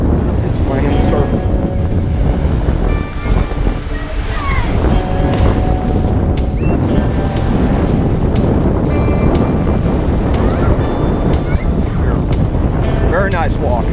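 Surf rolling onto a sloping resort beach at Playa Mujeres, a loud continuous wash of breaking waves mixed with heavy wind buffeting the microphone, while a voice talks over it.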